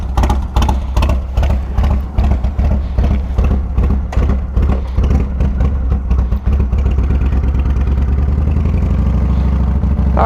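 A Yamaha Roadstar 1700cc cruiser motorcycle on a test drive, its engine giving a loud, close, deep pulsing rumble with rapid rhythmic clatter that settles into a steadier drone toward the end.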